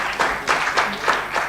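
A conference audience at an agricultural stakeholder session applauds a panelist, a moderately loud spell of clapping that swells and dips in uneven waves.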